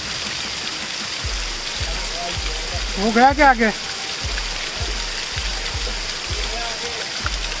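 A natural mountain stream on a trek flows in a steady rushing wash while water is being collected. Light knocks and taps recur over the flow, and a short spoken phrase cuts in near the middle.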